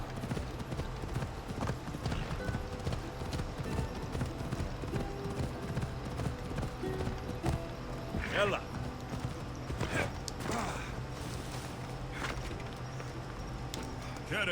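Horse galloping in the video game Assassin's Creed Odyssey, rapid clip-clop hoofbeats running continuously with an occasional whinny, as someone talks over it.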